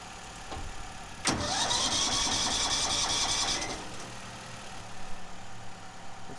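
A Craftsman II lawn tractor's Tecumseh 12hp engine cranks over with a sudden clack, then a steady mechanical whir and knocking churn for a couple of seconds before falling back to quiet ambient noise.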